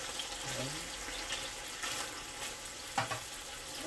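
Thin slices of Korean BBQ pork sizzling and frying in a pan, a continuous close crackling hiss with a brief clatter as meat is moved.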